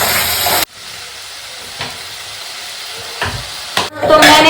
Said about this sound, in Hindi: अभी तो ये प्याज टमाटर पकने में थोड़ा टाइम है।